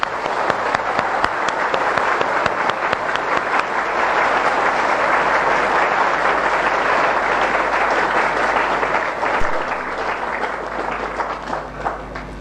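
Sustained applause from an audience at a gathering, dense steady clapping filling the whole stretch, loud and continuous before tapering slightly near the end.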